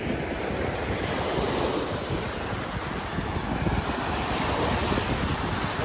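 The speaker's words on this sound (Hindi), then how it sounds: "जब पानी आके टकराता है पाँव के साथ" Sea waves wash steadily onto the sand at Skegness beach, a continuous broad surf roar mixed with gusty wind noise on the microphone, loud and close with no voices.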